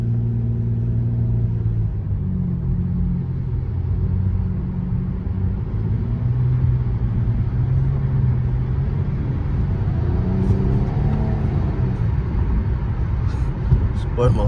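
Nissan Maxima engine pulling hard as the car accelerates, a steady low rumble and rising drone running continuously for the whole stretch, loud and close from inside the cabin.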